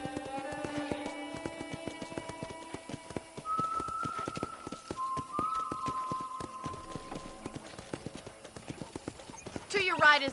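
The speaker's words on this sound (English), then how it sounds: "I picked out a fine horse for you." Rapid, regular hoofbeats clip-clop close by in the video game Red Dead Redemption, a horse trotting steadily while a voice speaks and a whistle-like tone sounds briefly.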